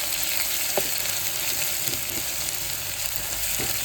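Green chillies and ginger-garlic paste frying in oil in a pan, a steady close sizzle throughout with a few faint stirring knocks, no voices.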